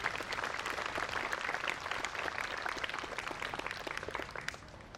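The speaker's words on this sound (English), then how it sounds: "Ladies and gentlemen, please, round of applause." A crowd applauds at a Memorial Day ceremony in the Town of Swampscott, many hands clapping steadily at moderate distance, dense and even before fading slightly at the end.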